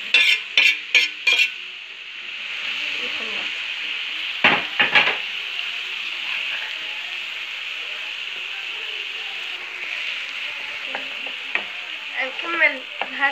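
Chopped onion sautés in a pan with salt, green and red peppers and garlic, sizzling steadily throughout. A spoon stirs with scraping and clinking knocks, busiest at the start and near the end.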